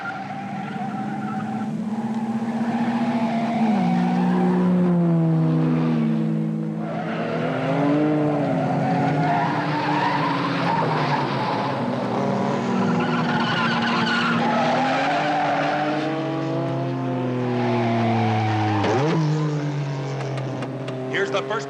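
Race cars in a 1954 lap race scene roar continuously, with engine pitch swooping up and down and tires squealing through repeated skids, loud and dense from start to finish.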